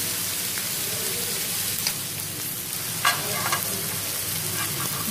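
Chopped onions fry in oil on a tawa with a continuous, close sizzle, broken by occasional crackles and light stirring clicks.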